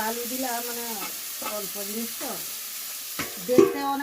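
Sattu sizzles and is stirred in a hot pan in a home kitchen, a steady frying hiss with scraping under a voice that talks throughout, plus a short louder clatter near the end.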